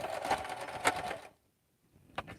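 A sewing machine stitches Sew Powerful cross body bags in a short close burst of rapid, steady running, then stops dead into silence before a brief faint restart.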